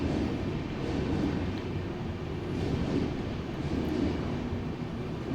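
A passing train on the nearby railway line makes a sustained low roar that gently rises and falls in waves, loud and continuous with no talking.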